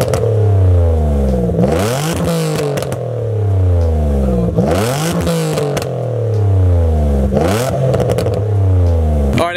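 A car engine, likely a Nissan 350Z, is revved hard against the rev limiter in three loud repeated bursts, each climbing then bouncing with rapid stuttering cuts before falling back to idle.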